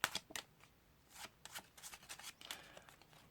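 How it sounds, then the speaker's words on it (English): A packet of playing cards being shuffled, giving a quiet run of crisp riffling and flicking bursts that come in uneven clusters over a few seconds, close by and with no one talking. "If you want, you can get them to shuffle this packet"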